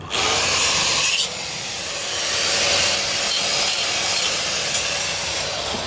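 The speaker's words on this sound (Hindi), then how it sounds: "कटिंग चालू" A marked piece is cut for air holes with a power tool, giving a loud, steady grinding and rasping noise that runs unbroken for about six seconds with no voices.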